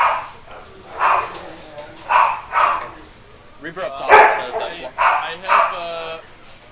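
Dogs bark and yip in short, loud bursts repeated through the stretch, mixed in with someone talking over a video game.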